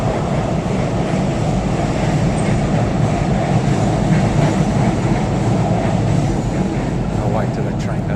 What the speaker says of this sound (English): I'll wait till that train goes by.